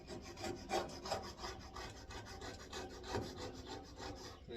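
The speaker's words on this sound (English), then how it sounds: "kind of scrape this glass off a little bit." A blade scrapes grime off the window glass of a Green Mountain Grill Daniel Boone pellet grill during a deep clean, producing quiet, rhythmic rasping strokes close by.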